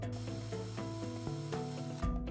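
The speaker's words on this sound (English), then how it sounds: "Pre-drill the 2 holes." A power drill pre-drilling two pilot holes into a wooden drawer front for a combination knife holder cutting board, its motor whining steadily up close and shifting pitch as the bit bites into the wood.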